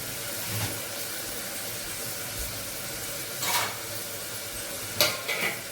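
Jackfruit seed paya being sautéed in a pan gives a soft, steady sizzle with stirring scrapes, plus a few brief louder clinks and rustles near the end.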